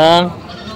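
A goat gives a short, close bleat at a livestock market in Padre Garcia, Batangas, fading into a murmur of background noise.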